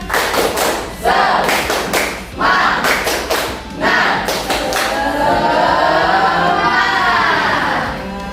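A classroom of Islamic studies students performs a rhythmic spirit clap, several bursts of synchronized patterned clapping with thumps separated by short pauses, followed by a stretch of children's voices chanting or calling out together.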